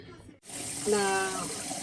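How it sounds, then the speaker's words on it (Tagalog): Water pours from a tap into a cooking pot for pork paksiw na pata, starting abruptly after a brief quiet moment and flowing steadily with a rising filling tone, close and fairly loud. "Sandali lagyan natin ng tubig pa."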